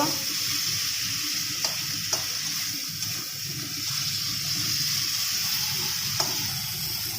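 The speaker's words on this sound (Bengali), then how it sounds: "এবার জল দিয়ে দিলাম। দেখো জলটা দিয়ে দিলাম।" Water poured into a pot of potatoes for a rohu fish curry, a continuous close rushing pour with faint sizzling beneath and a few small knocks.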